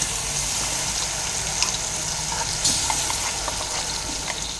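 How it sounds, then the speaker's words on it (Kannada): Ground masala paste with asafoetida and curry leaves fries in oil for a bendekayi gojju, giving a continuous loud sizzle with small bursts of spatter as it is stirred. "ರುಬ್ಬಿರುವ ಮಿಶ್ರಣ ಹಾಕ್ಕೊಂಡು ಈ ಥರ 1-2 ನಿಮಿಷ ಎಣ್ಣೆಯಲ್ಲಿ ಬೇರೆಯೋ ಥರ ಕಲಿಸ್ಕೋಬೇಕು"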